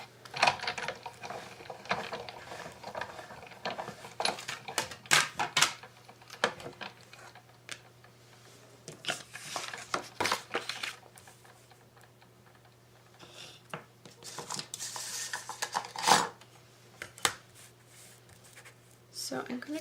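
Scissors snipping through paper to cut out a doily for a handmade Valentine card, a series of short crisp cuts and rustles with pauses between them, close up, with a steady low hum behind.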